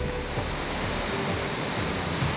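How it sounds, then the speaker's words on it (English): Blackwater Falls on the Blackwater River in a West Virginia state park, a steady broadband roar of tumbling, churning water that holds constant throughout with no voices. "Tumbling and churning, the waters of the Blackwater River form the namesake of Blackwater Falls State Park"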